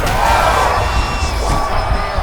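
Loud arena crowd roaring and cheering in the UFC 5 fighting game during an Adesanya versus Pereira bout, a dense continuous swell of shouting voices close in the foreground.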